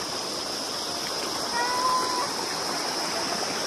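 The Chalse stream in Sindhupalchok flowing, a steady broadband rush of water throughout, with faint voices in the background.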